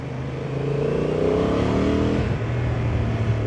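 A Honda Transalp 750 motorcycle engine on a test ride revs up in sport mode with a rising, throaty roar, holds loud and close, then dips briefly as the throttle is cut and reopened.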